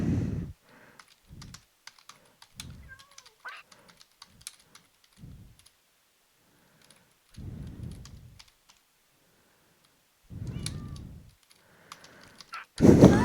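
Computer keyboard typing in short clustered bursts during a Minecraft hardcore vanilla session, close and fairly loud, separated by quiet pauses, with a heavier thump at the end.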